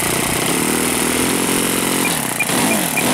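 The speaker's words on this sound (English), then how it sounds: "Throttle, Captain Blast, throttle" An OS FS 40 four-stroke glow engine on a De Havilland Tiger Moth model aircraft runs loud and close, a steady buzzing drone with rising throttle and no talk.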